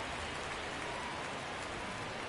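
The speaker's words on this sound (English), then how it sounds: "It feels like we might be headed towards a rain delay if the weather doesn't ease up, Chris." Steady rain pours throughout a baseball game in the RTTS mode of a video game, a dense, even hiss of falling drops with no pauses or voices.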